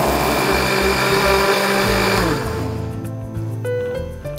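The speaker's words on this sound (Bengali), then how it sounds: "করছি ব্লেন্ড।" An electric blender whirs loudly as it blends a strawberry-lemon drink, a steady motor drone with a pulsing low hum that eases down partway through.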